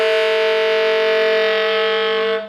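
A saxophone sustains a multiphonic, several tones sounding at once in a steady, buzzy chord with a strong low tone, held loud and alone for about two and a half seconds before cutting off.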